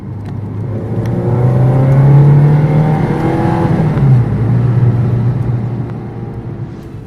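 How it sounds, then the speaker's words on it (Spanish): Renault Clio Williams engine pulls hard under acceleration, its note climbing through the revs, easing, then rising again, a loud, close, continuous mechanical drone with no talking. "todo ello acompañado del precioso sonido que emana el propulsor"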